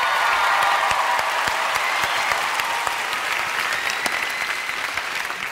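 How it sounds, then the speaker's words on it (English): Sustained, full applause from a large audience for more than 100 volunteers on stage at an Idol Gives Back 2008 broadcast, steady and loud throughout, slowly easing toward the end. "Let's give them a round of applause."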